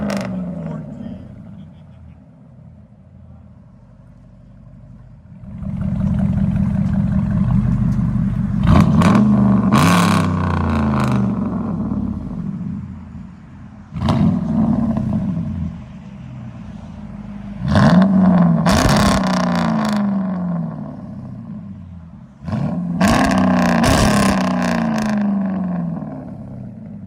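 A car engine revs hard through aftermarket exhaust tips, several loud roaring bursts separated by a lower steady idle, up close with no talking.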